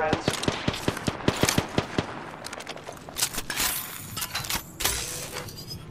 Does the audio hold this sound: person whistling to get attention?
no